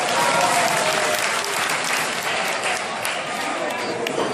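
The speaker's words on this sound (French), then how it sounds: "Est-ce qu'on peut applaudir encore une fois?" A comedy show audience applauds loudly and continuously, many hands clapping close by in a thick, even roar with no pause.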